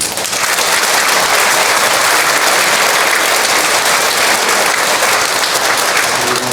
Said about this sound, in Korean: 우리 하나님께 감사와 영광의 박수 한번 올려드렸습니다